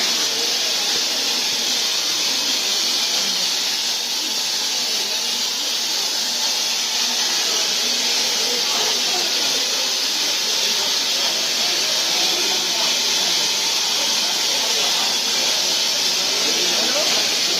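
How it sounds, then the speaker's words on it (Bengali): Steady, loud steam hiss from a Nilgiri Mountain Railway toy train steam engine, the Mettupalayam–Ooty line, heard up close as an unbroken rushing spray, with murmured talk from people nearby underneath. "সামনেই যে স্টিম ইঞ্জিনটা রয়েছে সেখানে।"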